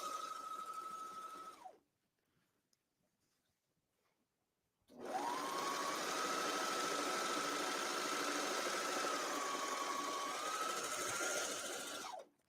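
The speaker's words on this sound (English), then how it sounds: "I'm going to run these through the serger and I'll meet you at the ironing board" A serger sewing machine stitches through denim jeans fabric in two close bursts: a brief run, a pause of a few seconds, then a long steady whirring run that stops abruptly.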